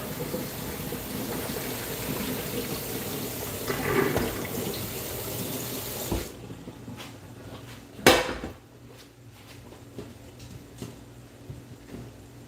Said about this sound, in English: I usually rinse my potatoes with cold water.